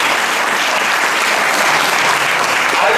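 Audience applause at an Italian book presentation, dense steady clapping from a crowd, sustained and fairly loud for a few seconds without talk.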